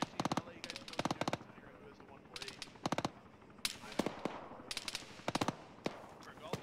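Short bursts of automatic gunfire in the ArmA military video game, crisp clustered shots repeating at irregular intervals, fairly distant and faint over low ambient noise.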